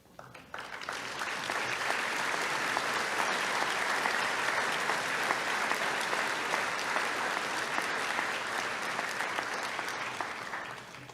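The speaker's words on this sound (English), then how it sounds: "I was going to say a round of applause for this prestigious distinction, but you guys beat me to it." Audience at a high school commencement ceremony applauding students of the French National Honor Society, a sustained, even wash of clapping heard from a distance that swells in and holds steady.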